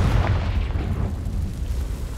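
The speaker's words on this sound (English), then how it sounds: "Confringo." A Confringo explosion spell goes off in the Hogwarts Legacy video game, giving a deep booming blast that rolls into a sustained low rumble for about two seconds.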